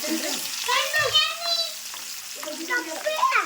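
Garlic fries in hot oil with a continuous soft sizzle and occasional stirring, partly under voices talking nearby.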